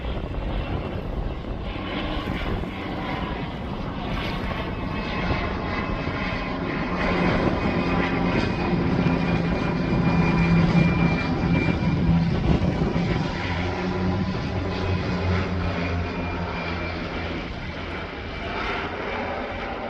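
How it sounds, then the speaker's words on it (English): A float plane passes overhead near a harbour, its propeller engine droning steadily loud throughout and swelling slightly as it comes closest, with no talk. "Catch this float plane here."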